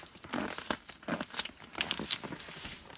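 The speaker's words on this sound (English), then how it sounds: "So we're gonna try to just rip this open with my ungodly strength" A taped cardboard package from BookOutlet is torn open by hand, giving a series of short ripping and crinkling bursts, close and fairly faint, with no talking.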